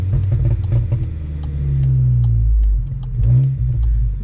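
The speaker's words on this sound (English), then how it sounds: "Do the first gear rev match." A manual VW Mk8 GTI, Stage 2 tuned on E85, rev-matches in first gear. The engine gives a deep, close rumble that swells, eases off and then blips up again.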